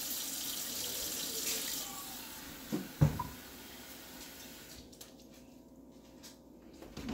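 A kitchen tap runs steadily as water fills a cooking pot, a soft hissing stream with a few clanks partway through before the flow stops, no talk.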